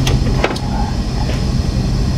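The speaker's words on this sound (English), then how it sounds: "Sorry, the air compressor is loud, so I had to pause." A loud air compressor runs steadily in a workshop while valve spring height is being measured, a constant dense mechanical drone with low hum and broadband noise, with no talk over it.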